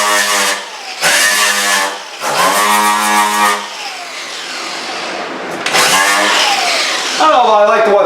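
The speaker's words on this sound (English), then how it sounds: "I guess I'll get started with the grinding." Angle grinder working Duraglass filler on a cheap shower unit, running in several loud whining bursts with short pauses between, the pitch wavering as it bears down on the surface.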